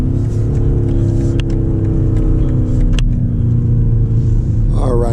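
A 2024 BMW X5 M Competition driven on a winding back road, its engine giving a loud, steady low rumble with road noise throughout and a brief rise in pitch at the end.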